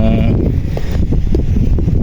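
Strong typhoon wind buffets the microphone at a road deck construction site during Typhoon Enteng, with a loud, low, continuous rumble and gusty fluctuations, nearly masking any other sound.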